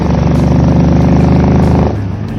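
Engine of a Pembleton car while driving, a loud, steady, close drone with a rough rhythmic pulse that eases off near the end, with no talk.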